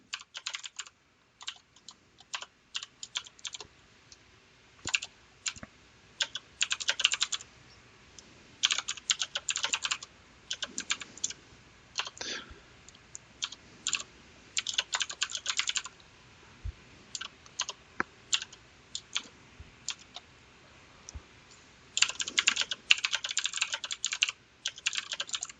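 Fast bursts of typing on a computer keyboard while entering notes in MuseScore notation software: close, crisp clicking keystrokes in irregular clusters with short pauses between them, no voices.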